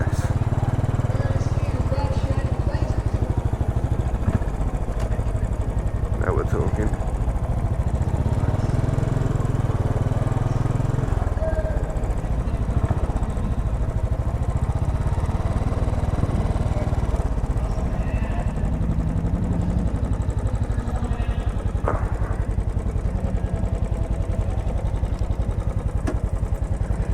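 A Royal Enfield 500 Bullet, a 500 cc single-cylinder motorcycle, runs steadily at a roadhouse bike night, its low engine drone continuous throughout with faint crowd noise around it.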